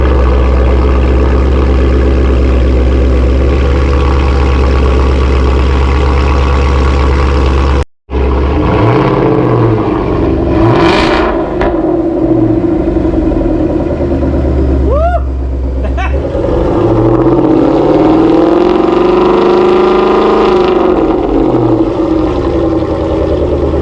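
A 2022 Ford Mustang GT V8 with a Corsa exhaust rumbles loudly at idle, cuts out briefly, then restarts and rises into several hard revs with deep, swelling roars close by; a voice speaks briefly over the engine.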